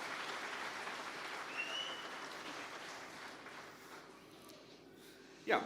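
Steady applause from a crowd fills the room, a broad wash of clapping that holds level throughout, with a sharp louder clap near the end.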